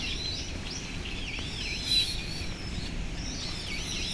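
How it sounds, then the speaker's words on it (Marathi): Several birds chirp and whistle in short repeated calls in a tree-filled outdoor spot at Yeongjong Island, South Korea, near a distant beach, over a soft, steady background hum. "पक्ष्यांचा आवाज छान येतोय"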